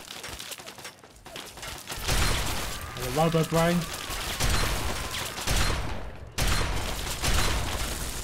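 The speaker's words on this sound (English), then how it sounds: "Something's shooting at me." Bursts of gunfire rattle in Fallout 3, mixed with game effects, while someone talks over the action.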